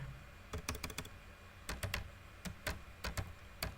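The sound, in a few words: typing code on a computer keyboard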